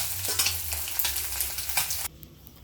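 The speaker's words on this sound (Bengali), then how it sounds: "মাছগুলো ভাজা করতে দিয়েছি কড়াইতে" Loud sizzling of fish frying in hot oil in a wok crackles steadily and close up, then cuts off abruptly near the end.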